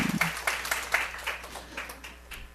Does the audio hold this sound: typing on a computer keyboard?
no